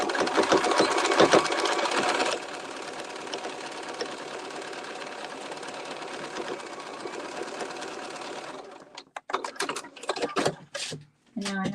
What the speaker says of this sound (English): And then I'm just gonna stitch this across.